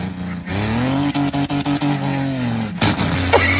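A voice mimics a pickup truck engine, buzzing and revving with sputtering breaks and rising pitch sweeps, loud and close with no other sounds.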